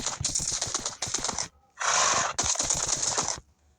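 Horse in a survival video game, with bursts of clip-clop hooves and movement noise followed by a short loud whinny-like blast, then more hoofbeats before fading out.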